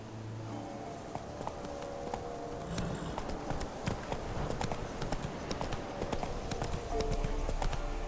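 Roach the horse trotting in The Witcher 3, a steady clip-clop of hooves running through the whole stretch under ambient game sound, with no talk.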